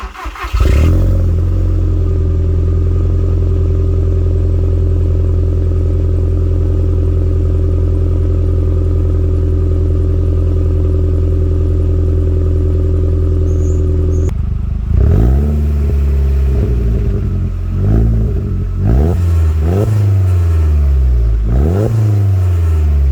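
SEAT Leon Cupra R 225 fitted with a Cobra catback exhaust starts and settles into a loud, steady idle, then gives several sharp revs in the final stretch, recorded close with no talking.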